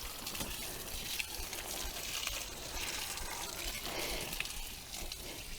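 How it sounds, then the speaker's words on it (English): Water pours from a watering can onto plants in a hoop house in mid-February, a soft continuous splash and trickle heard close by and fairly quiet, with no talking. "so I am actually stuck with watering with this watering can. I'm going to give everything a good soak"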